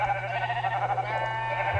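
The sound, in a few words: sheep bleating in Minecraft, a video game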